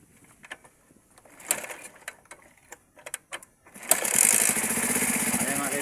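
Motorcycle engine running after a tune-up, preceded by scattered light clicks and taps, then starting up near the end and holding a loud, steady, close running drone.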